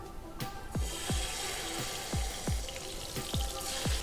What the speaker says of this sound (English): The perfect sizzling sound means your oil is ready and that you have added in your fish at the right time.